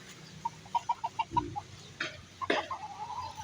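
A series of soft, short clucks from feather-footed chickens at a resort in Baybay, Leyte, evenly spaced at first, then a few louder squawks and a brief call, with no talking.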